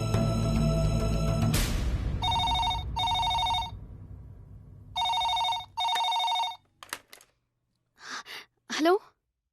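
A telephone rings in two paired bursts of bright electronic trills after a loud opening noise. Breathy gasps and short vocal sounds follow near the end.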